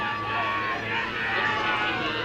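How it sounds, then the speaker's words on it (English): Spectators on the river bank at a university regatta cheering a crew race, a dense steady roar of crowd noise with mixed shouts and babble, continuous and fairly loud across about two seconds. "Huge amount of cheering on the bank"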